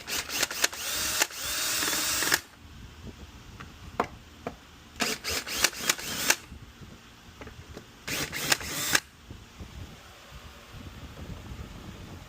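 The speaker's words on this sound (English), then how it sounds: "I'll come back with a screwdriver on those." A screwdriver works loose the coil pack screws on a Pentastar 3.6L V6 engine, producing short bursts of close, whirring driver noise separated by pauses and faint clicks, with no talk.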